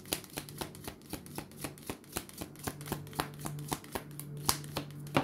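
Tarot cards are shuffled by hand for a reading, with quick regular riffling snaps close by and a faint steady hum underneath.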